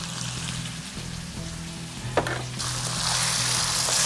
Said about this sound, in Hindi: अब आपने इसको टमाटरों के साथ भूनना है।